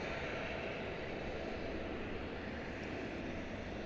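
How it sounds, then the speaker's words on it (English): An Airbus A321 on Flight 2005 at Dallas Fort Worth airport gives off a steady, fairly faint engine rumble and hiss, heard alone and unchanging from a distance. "an Airbus A321."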